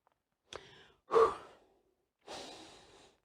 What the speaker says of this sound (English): give me a second to breathe